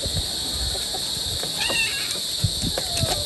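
A cat meows a few times, short thin cries heard close up over a steady background hiss and low rumble.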